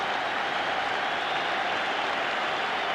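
Football stadium crowd at a 1984 World Cup qualifier between Ireland and the USSR, applauding a substituted player, heard as a steady, distant roar of clapping without breaks.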